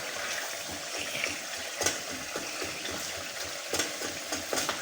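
Curry masala with potatoes and tomatoes fries in a pan, giving a steady sizzle with occasional stirring scrapes and taps, close and moderate in volume, with no talk.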